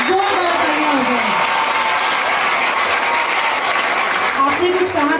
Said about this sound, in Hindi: a huge round of applause for Padma Shri Madhu Bandadkar ji के लिए जोरदार तालियां हो जाए।